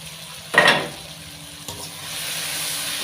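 Fried koi fish pieces tipped into a pan with salt and turmeric make a sharp burst of sizzle and stirring, then settle into a softer, steady frying hiss close by.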